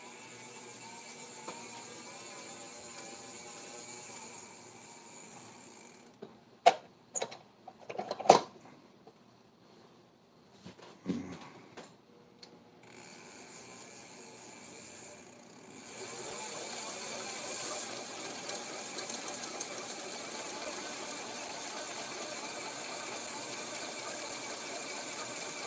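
A left-handed fishing reel is spooled with line, giving bursts of sharp mechanical clicks and ratcheting near the middle, then a soft continuous whir and hum that carries on to the end.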